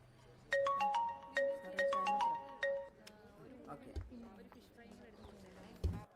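A telephone ringtone chirps in a repeating melodic pattern four times while a call is placed in a Hindi-dubbed action film scene, followed by low background sounds and soft thuds.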